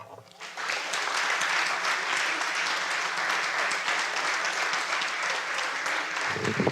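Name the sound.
audience applause at celebration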